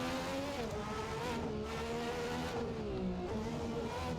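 An Aston Martin Valkyrie screams around the Nürburgring in a sim racing game, its engine note climbing and dropping through gear changes and braking, loud and continuous without speech.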